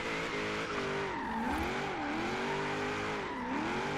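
V8 turbocharged Hummer drifting in second gear in Forza Horizon 3, the engine droning steadily with its pitch swooping up and down as the revs rise and fall, tires squealing, close and continuous.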